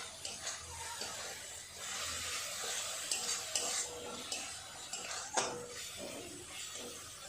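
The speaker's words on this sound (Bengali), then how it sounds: "খুব সুন্দর করে সব মশলাগুলো কষিয়ে নেব" Ground spices with onion and chicken frying in a pan for chicken do pyaza, stirred continuously with a spatula: a constant sizzling hiss with repeated scraping strokes throughout.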